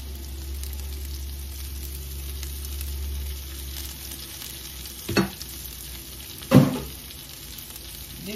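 Quail meat stir-frying with parsley in a hot pan gives a soft, steady sizzle, with two louder scrapes as the food is tossed partway through.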